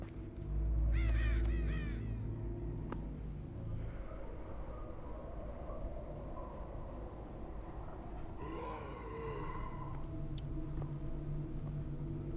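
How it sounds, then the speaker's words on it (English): A crow caws several times in quick succession inside a video game, fairly loud at first, followed by a low rumbling ambience and a fainter, more distant caw later on. "I heard a bird for a second then."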